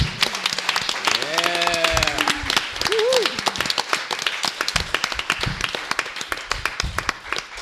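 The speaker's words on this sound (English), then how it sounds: "We have to give a serious round of applause to Bridget, please" Audience applause for Bridget at an academic talk on religious literacy, a small room of people clapping in scattered, fairly close bursts that thin out toward the end, with a voice and a few vocal sounds early on.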